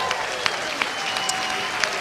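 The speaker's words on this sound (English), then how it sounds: "give them a round of applause" An audience gives a round of applause, dense steady clapping at close range with a few sharper individual claps standing out above the crowd.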